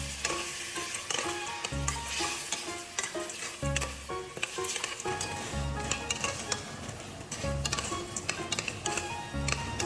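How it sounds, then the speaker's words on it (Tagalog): Mung beans are sautéed in a pan, with a continuous sizzle and frequent stirring clatter and ticking of a utensil against the pan, close and fairly busy. "at sa pagigisa po ay sinasama ko rin yung munggo"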